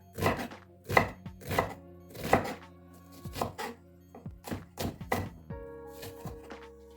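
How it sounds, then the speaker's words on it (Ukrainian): A knife chops through onion on a cutting board in a series of about a dozen sharp, close thuds at an uneven rhythm, heard alone without talk. "Нарізала я цибулю, виявилася цибуля для, до мене ніжною."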